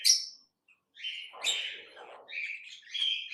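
Lovebirds in a colony aviary chirp and squawk in short, bright bursts, several overlapping calls close by with brief pauses between them, no talking.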